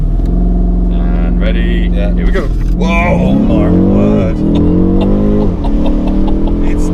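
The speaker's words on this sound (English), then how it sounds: "In fact, I'll give you a little bit of exhaust sound." A 2019 BMW M850i launching hard, its engine and exhaust roaring loudly as revs climb and shift, close and dominant, with excited voices talking over the acceleration.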